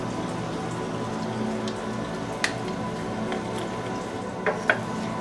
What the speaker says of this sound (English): garlic and my onion into my pan so I can brown it for a little bit